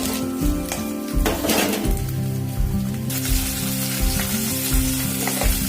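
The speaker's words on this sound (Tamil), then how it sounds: "இப்போ கடலைப்பருப்பும் உளுந்தும் பொரிஞ்சிருச்சு. இந்த டயத்தில் வெள்ளைப்பூடு, சின்ன வெங்காயம்," Chana dal, urad dal, garlic and small shallots fry in hot oil in a pan, a steady loud sizzle with occasional stirring scrapes and clinks, no talking.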